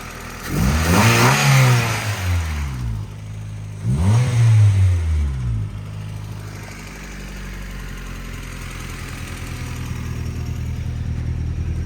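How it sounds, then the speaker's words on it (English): A modified Honda Civic engine revs hard twice, climbing and falling in pitch, then settles into a loud, rough idle, the engine louder than the exhaust. "One of the rare occasions that a modified Civic the engine is louder than the exhaust"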